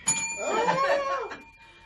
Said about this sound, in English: hit your bell, Aaron.